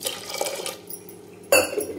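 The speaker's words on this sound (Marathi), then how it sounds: "तर कुकरमध्ये टाकल्यानंतर आपण पाणी टाकणार आहे।" Water poured into a pressure cooker over washed lentils, a brief bright splash and gush with a clink of the metal pot, starting suddenly partway through and running on moderately loud and close.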